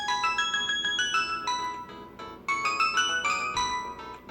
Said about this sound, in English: take a sneak peek and listen to one of my favorite ringtones